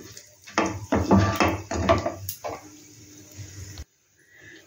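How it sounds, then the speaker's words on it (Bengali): Whole spices, black peppercorns and two bay leaves frying in oil, stirred in a pan with a few clattering scrapes and knocks of the spoon at close range, followed by a quieter sizzle. "এবার এগুলো একটু নাড়াচাড়া করি।"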